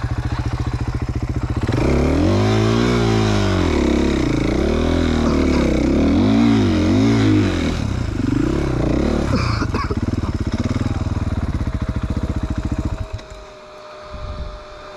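A Chinese motorcycle engine idles roughly, then revs in several rising and falling throttle sweeps before settling back and cutting off abruptly near the end, loud and close.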